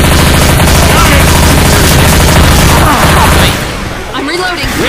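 Heavy video game gunfire in a zombie shooter, rapid sustained automatic bursts, loud and close, cutting off near the end, with a voice talking over the shooting.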